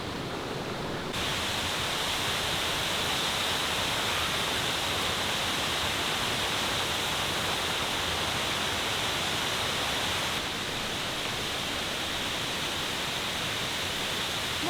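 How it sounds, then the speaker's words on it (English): Waterfalls at Plitvice Lakes National Park, Croatia, pour out a steady, dense rush of water that holds level without a break from start to finish. It sounds close and loud, with no voices. "More waterfalls."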